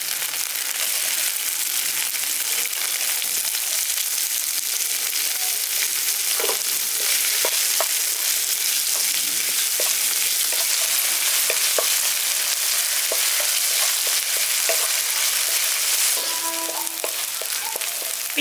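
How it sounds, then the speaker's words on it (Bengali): Chopped onion frying with ginger-garlic paste in a pan, a loud continuous close sizzle with scattered crackles and occasional stirring clinks, no voices. "পেঁয়াজটা দেখুন এখানে আমি হালকা করে একটু ভেজে নিয়েছি"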